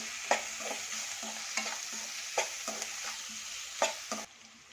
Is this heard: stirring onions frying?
yes